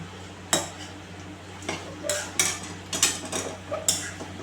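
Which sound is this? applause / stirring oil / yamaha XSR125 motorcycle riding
stirring oil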